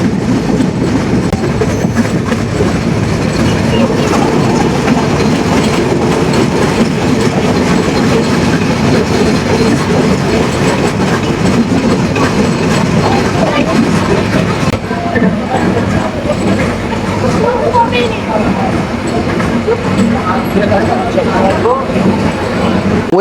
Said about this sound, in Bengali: আর এই হচ্ছে কপোতাক্ষ এক্সপ্রেস ট্রেন